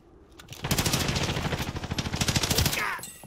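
Sustained automatic gunfire from an enemy weapon in the video game Warzone, a loud, rapid rattling burst of steady shots lasting a few seconds, with no talking over it.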